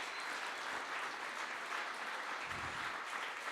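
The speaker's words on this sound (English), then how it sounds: "applause for Mrs." Continuous audience applause for a speaker's guest, dense and even throughout, moderately distant, with no voices over it.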